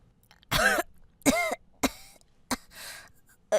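A series of harsh coughs, about five bursts spaced irregularly, fairly close and loud, with a rough throat-clearing quality and no talking.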